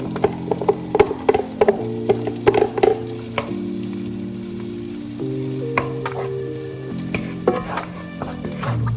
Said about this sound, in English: Stir it up one good time before you add the bacon.